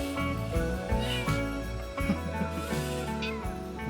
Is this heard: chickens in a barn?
no